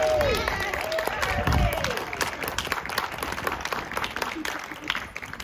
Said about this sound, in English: please give a warm welcome and applause to Charlie Randolph